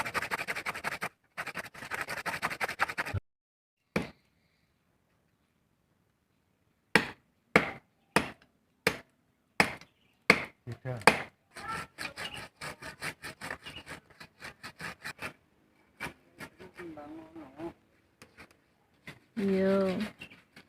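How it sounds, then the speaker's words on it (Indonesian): Sharp, rhythmic rasping strokes of a hand saw biting through tough tree wood, a steady run of cuts with brief pauses, with people talking before and after. "Jadi kita selang-seling alatnya pakai gergaji kayu maksudnya."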